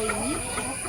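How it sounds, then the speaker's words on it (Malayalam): Chickens cluck close by as they gather for feed, a short burst of overlapping clucks within a second. "അത് കണ്ടു കഴിഞ്ഞാൽ കോഴികളെല്ലാം ചേട്ടൻ്റെ കൂടെ കൂടും."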